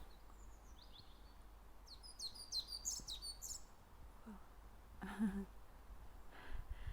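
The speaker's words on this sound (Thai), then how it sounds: "เสียงนกร้อง" A bird perched on a tree branch sings on a quiet morning walk, a series of short, high chirps and tweets close by, with faint background ambience and a brief soft voice.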